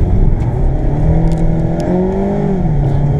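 A Mazda MX5 with traction control switched off powers through a bend, its engine droning loudly and close with shifting revs and no voices over it.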